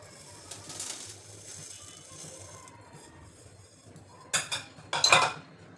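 Roasted sorghum is scraped out of a pan with metal clatter, a few sharp scrapes and clinks toward the end, while pigeons coo faintly in the background.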